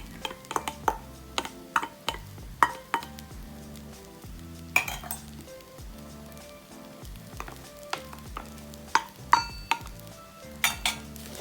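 A metal spatula clanks and scrapes against a pan while Chinese sausage fried rice is broken up and stirred, giving irregular sharp knocks over a soft frying sizzle, close and fairly quiet.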